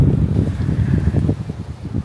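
Wind buffeting an outdoor microphone in a garden, loud rumbling gusts crackling and thumping against the mic for a couple of seconds with no other clear sound.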